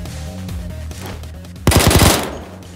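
Automatic gunfire in the video game Payday 2, a loud close burst of rapid shots shooting a civilian, cutting in over a low steady game hum and lasting about half a second before fading.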